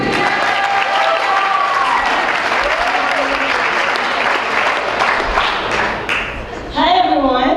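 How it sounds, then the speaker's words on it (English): Wedding reception guests give a loud, steady round of applause for the matron and maids of honor. Cheers and whoops rise through the clapping, and a voice starts speaking near the end. "Everybody, big round of applause, please"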